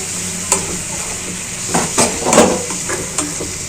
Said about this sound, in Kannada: ಅದಾದಮೇಲೆ ಟೊಮೆಟೊನ ಹಾಕಿ ಇದು ಸಾಫ್ಟ್ ಆಗೋ ತನಕ ಫ್ರೈ ಮಾಡಬೇಕು